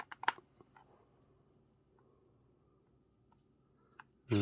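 Screws click sharply while a Sega Mega Drive controller is opened, a quick burst of small clicks near the start, then near silence with a single later tick and a loud rush at the very end.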